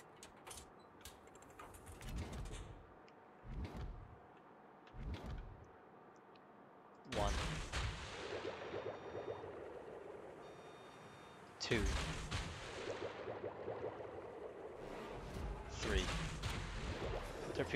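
Torpedoes launch from a supership in a naval combat game, first a few quiet thumping shots, then two big roaring bursts of launch and gunfire noise that swell and linger, loud and close.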